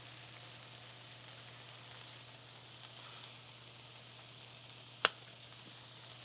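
Onion cooking in a pan, a faint, steady sizzle with a low hum underneath and one sharp click near the end, no talk heard.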